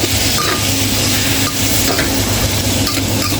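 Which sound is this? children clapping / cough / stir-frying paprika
stir-frying paprika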